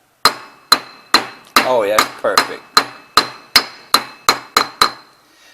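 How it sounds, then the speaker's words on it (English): Eleven sharp hammer strikes on a metal part at a steady pace, close and loud, ringing briefly after each hit, while building a four-wheel-drive Cub Cadet 1650 garden tractor; a person speaks briefly between the blows. "Let's see what the hammer does the rest of the way."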